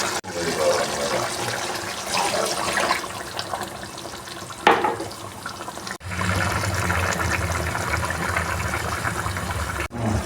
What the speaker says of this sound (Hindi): अब इसमें हम 1 गिलास पानी ऐड करके सिर्फ 10 मिनट के लिए और पका लेंगे